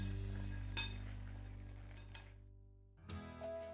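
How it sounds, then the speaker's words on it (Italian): Sweet panzanella bread salad with torn mint leaves is stirred and tossed in a bowl, giving a soft continuous scraping and mixing with a light clink, then a brief pause and a few more utensil knocks. "Una bella mescolata e posso impiattare."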